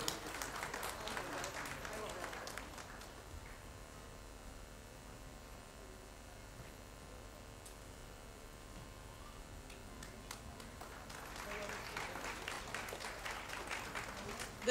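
Faint applause from an audience at a school's 40th-anniversary Ruby Jubilee celebration, soft clapping at the start that fades to a quiet hum, then rises again toward the end.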